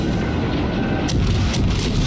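Naval guns firing on the cruiser St. Louis during a World of Warships battle, heavy booming blasts over a constant loud low rumble of ship and battle noise, with sharper reports near the middle and end.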